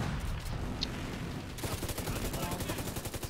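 Gunfire in the video game The Division 2 erupts into a rapid automatic burst in the second half, following a muffled stretch of game noise, with a player's voice faintly mixed in.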